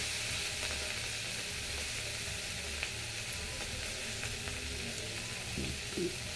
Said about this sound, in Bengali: আমি গ্যাস সিম করে ভাজি তো একটু সময় লাগবে।